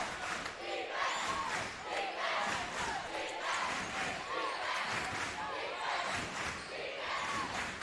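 A high school boys basketball crowd at a Northwood at Blackhawk Christian game cheers and chants steadily in a gym, a moderately loud wash of voices with sneaker squeaks and a commentator talking over it.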